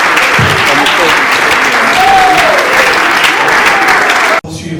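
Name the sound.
applause for the sponsor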